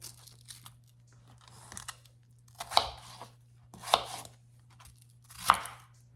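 A knife dices a peeled onion on a cutting board, giving three sharp, crisp chops spaced about a second apart, with softer cutting noises between them and a steady low hum underneath.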